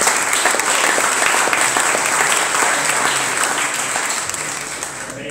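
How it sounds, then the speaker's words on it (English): A conference audience breaks into dense, sustained applause, loud and close, a steady wash of many hands clapping that tapers slightly toward the end, with no speech over it. "Give yourselves a big round of applause."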